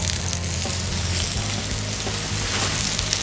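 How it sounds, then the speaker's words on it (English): A citrus-infused red snapper fillet frying in hot oil gives a loud, steady, close sizzle with dense crackling spatter that runs the whole time, with no voices. "And place it in the hot oil."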